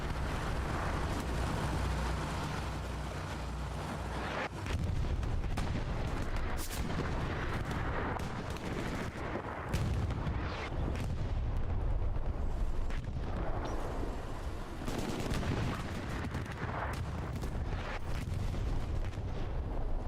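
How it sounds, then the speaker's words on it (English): Artillery shells burst in Hell Let Loose, a World War II shooter match, as a steady barrage of loud, overlapping booms and rumbling impacts that fills the scene with dense battlefield noise and no voices. "Put an artillery shell down."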